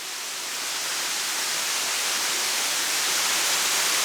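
A waterfall in Zion heard from the small boulder-roofed grotto behind it makes a broad, steady rushing hiss that swells slightly at the start and then holds loud and constant, with no voices.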